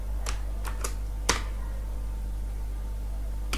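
Several crisp clicks from typing on a computer keyboard: a few quick, separate keystrokes in the first second and a half, then a pause, all over a steady low electrical hum.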